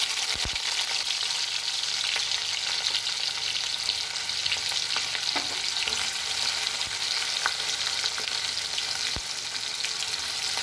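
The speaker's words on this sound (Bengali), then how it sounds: "তো এবার আমি পেঁয়াজটাকে সুন্দর করে ভেজে নেব" Onions fry in hot oil for a biryani, giving a steady, close, continuous sizzle with faint crackles throughout and no talking.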